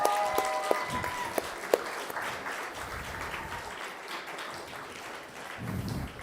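Audience at a startup conference claps for pitching founders, a moderate, uneven patter of hands with a few sharper claps early, fading toward the end.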